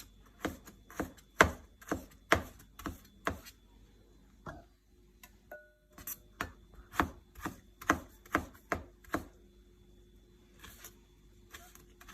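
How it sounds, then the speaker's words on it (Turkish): A knife chops food for lahmacun on a cutting board in quick bursts of sharp, close knocks, broken by short pauses, with no talking. "Robotum vardı ama bu şekilde doğramak istedim."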